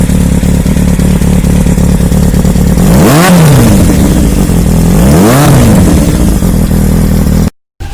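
A Kawasaki ZX-7R motorcycle with an SC Project aftermarket exhaust idles with a loud, deep rumble, then revs up sharply twice, each throttle blip rising and falling, with a brief cut near the end.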